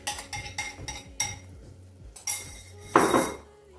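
Eggs dropped into a cooking pot, giving a run of sharp clinks and clatters against the pot at a steady rhythm, then a louder scraping rattle near the end, close and unaccompanied by speech.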